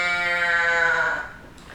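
A single drawn-out nasal bleat from a can call imitating a whitetail doe in estrus, close and moderately soft, fading out after about a second.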